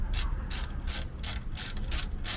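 A ratchet wrench clicks in quick bursts while loosening a bolt on a Belair alternator, close and steady, with short pauses between strokes.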